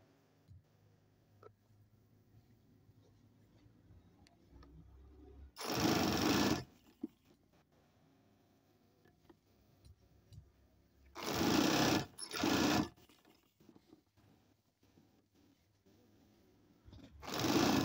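A sewing machine stitching a double seam to attach a sleeve, running in three short loud whirring bursts with the second split in two, separated by quiet pauses with faint handling noises.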